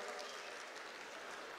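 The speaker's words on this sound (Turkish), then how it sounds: "Burfaş'tan gelen arkadaşlar bir alkış yaparlar mı?" Dense applause from a crowd at a municipal staff iftar, steady and continuous through a short stretch.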